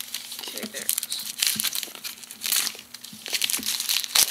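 Cardboard and plastic packaging of an AirPort Express box being ripped open, a run of crinkling and tearing bursts that swell and fade close by, with no talk.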